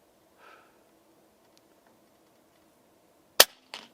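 Air Arms S510XS Stealth Carbine air rifle firing a .177 JSB pellet outdoors: one sharp, quiet crack near the end, followed shortly by a fainter second impact-like snap, with near silence around them.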